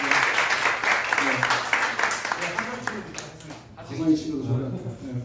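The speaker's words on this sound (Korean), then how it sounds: "박수 한번 합시다" A church congregation at a Sunday worship service claps for two young people standing up: brisk, fairly close clapping fills the first few seconds, then fades as a voice takes over and keeps talking.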